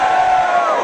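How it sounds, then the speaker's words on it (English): A live audience of about a hundred people cheers and whoops in a London theatre, a loud, dense burst of crowd noise lasting under a second. "Give us a cheer."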